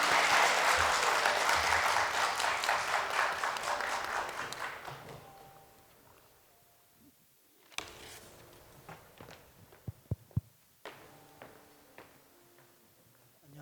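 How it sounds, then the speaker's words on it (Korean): Congregation applause at a Friday prayer meeting in a church, a full round of clapping that fades out after about five seconds, followed by quiet room noise, a few footsteps and light knocks near a microphone. "우리 박수하겠습니다."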